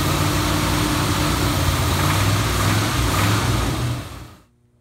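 Engine of a 1977 Ford running at a steady idle, a loud, even low rumble with rhythmic pulsing that holds for about four seconds and then cuts off to near silence.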